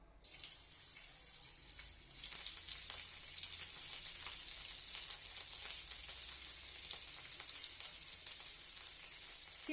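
Oil poured into a hot pan while making vegetable paneer rolls, a steady hiss of sizzling rising after the first two seconds and holding loud and continuous to the end, with no voices.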